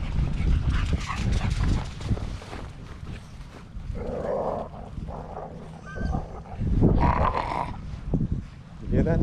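Several dogs bark and yelp in bursts, some close and some farther off, with a person talking intermittently over the commotion.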